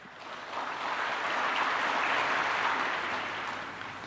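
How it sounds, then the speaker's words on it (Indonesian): An audience of school principals and teachers applauding at a presidential address, a dense, even wash of clapping that swells and holds for several seconds before easing off slightly, with no voice over it. "Jangan terlalu cepat tepuk tangan."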